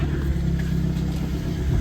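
A Mazda 5 car engine runs at a steady idle, a loud, continuous low rumble close by with no pauses.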